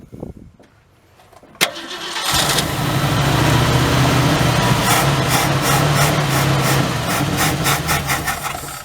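A 1967 Ford Galaxie 500 engine firing up for its first start in 25 years: quiet low clunks, a sharp crank, then a loud, close, rough idle that holds steady with a rhythmic pulse.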